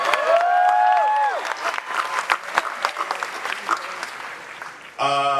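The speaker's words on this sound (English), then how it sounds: "Give her another round of applause" A Comic-Con panel crowd applauds loudly for a guest, with cheers and whistles over dense clapping that tapers off. Near the end, a short musical tone cuts in.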